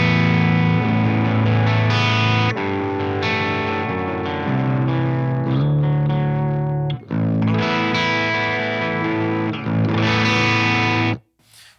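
An electric guitar with humbucking pickups plays chords through a crunchy baritone amp tone, thick, bass-heavy and moderately distorted, ringing in several strummed phrases with brief breaks between them.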